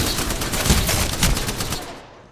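Rapid automatic gunfire in the Apex Legends video game, a dense burst of sharp repeated shots that fades out at the end.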